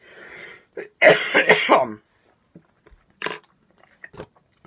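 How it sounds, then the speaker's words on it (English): A few harsh allergic coughs and throat-clearing bursts at close range, followed by quieter scattered mouth clicks and a short final cough. "this allergic cough just will not leave me alone"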